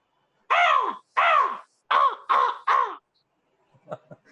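A human voice imitates a crow's cawing with five loud, hoarse caws in a steady rhythm, followed by a couple of faint, brief clicks.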